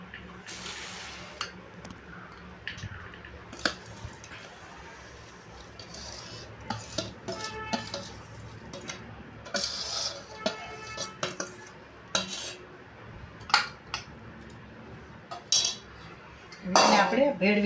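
Spoons scrape and clink against a metal pot while Punjabi athanu pickle ingredients are mixed, irregular close scraping strokes with brief metallic knocks, a little louder near the end.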